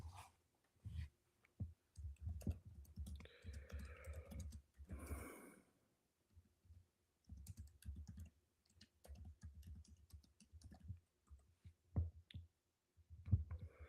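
Computer keyboard typing in irregular bursts of close clicks and taps, quiet, with pauses between runs and a few breaths or sighs in between.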